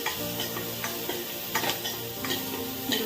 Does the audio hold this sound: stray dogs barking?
no